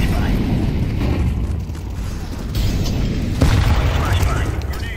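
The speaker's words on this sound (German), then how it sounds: "Flashbang, Achtung." A CS:GO flashbang grenade goes off amid loud low booms and bursts, a dense rumbling blast layered with game noise and a voice talking throughout.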